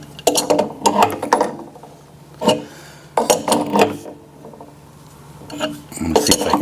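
A wrench works a fitting while an A.O. Smith Signature 900 hybrid water heater is installed, bursts of metallic ratcheting and clanking in several separate runs with short pauses, loud and close.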